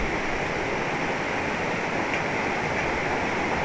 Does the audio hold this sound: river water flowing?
yes